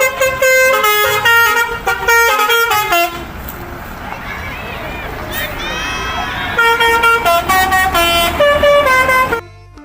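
A green, yellow and white toy city bus from Thomas and Friends sounds a loud, musical horn in repeated tooting bursts, with a short break of fainter noise in the middle before the honking resumes.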